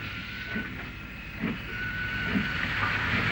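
A local passenger train runs along a railway line near Hollingswood, east of Wellington, a steady rolling rumble and hiss with faint rhythmic wheel beats, fairly close and continuous without any voices.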